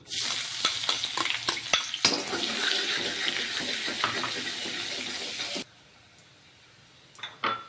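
Chopped onion drops into hot oil in a pan and fries with a loud, steady sizzle and crackle, broken by sharp stirring clatters, before the frying cuts off abruptly into near quiet with a few faint knocks.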